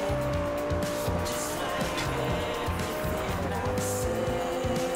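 Car engine and tire noise from the racing video game Forza Horizon 2, a continuous revving drone with some squeal under game music, while someone talks over it.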